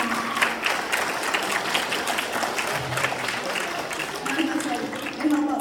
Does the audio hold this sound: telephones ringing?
no